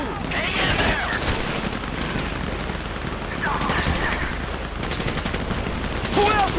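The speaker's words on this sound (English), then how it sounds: "You hear that gunfire?" Dense gunfire from Grand Theft Auto 5 during the Paleto Score heist: sustained bursts of automatic fire and crackling shots continue throughout, with game voices and radio chatter mixed in.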